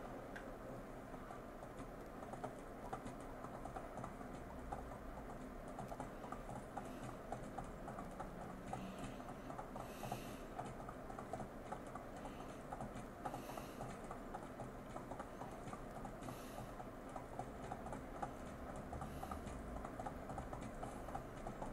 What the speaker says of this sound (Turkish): Yok, ata binelim. Ata binelim.